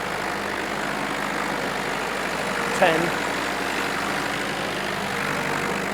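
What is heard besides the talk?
tractor engine pulling hard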